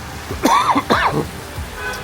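Two short, rough coughs close by, one right after the other, followed by quiet.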